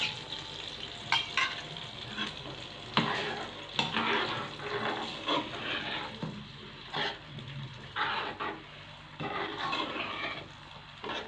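Eggs go into a hot pan for shakshuka, a steady close sizzle and frying hiss with scraping and stirring clatter throughout, no talk.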